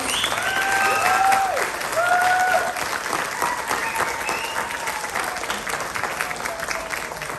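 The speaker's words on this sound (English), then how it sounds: "Can we give them one more round of applause?" Audience applause at the world premiere of the film A Heartfelt Change, loud sustained clapping from a crowd with voices and cheers mixed in, easing slightly toward the end.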